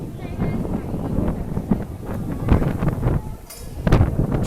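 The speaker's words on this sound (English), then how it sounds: "It is extremely windy, Emmy." Strong wind gusting at EPCOT, buffeting the microphone with a constant loud rumble that swells in bursts, with voices faintly present beneath the roar.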